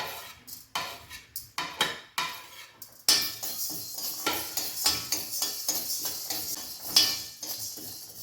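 Urad dal roasting in a pan until brownish for a curry leaf chitranna: a few scattered clatters and scrapes, then close, continuous stirring and light sizzling with sharp utensil knocks against the pan. No voices.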